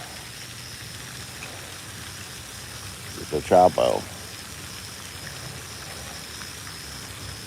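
Steady rain falls outdoors during a bass fishing outing, a soft, even hiss that runs throughout, with a brief burst of close speech partway through.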